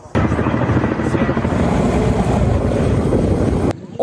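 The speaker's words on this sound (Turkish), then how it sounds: "helikopterler saatlerce denizin üstünde mekik dokudu" A helicopter's rotor chops steadily in loud, continuous noise mixed with wind buffeting, close and sustained over the sea, before cutting off abruptly near the end.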